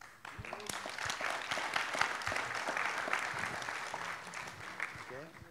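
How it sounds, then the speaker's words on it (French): A conference audience claps in a steady, moderate round of applause lasting several seconds, with a voice speaking over it. "Et j'avais eu plus d'applaudissements que ça, là."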